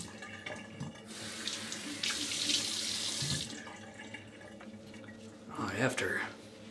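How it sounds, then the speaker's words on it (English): Tap water runs into a sink while a RazoRock Mamba 70 safety razor is rinsed after a shave, a steady close splashing that swells louder midway, with faint voice and clatter underneath. "let's have a rinse"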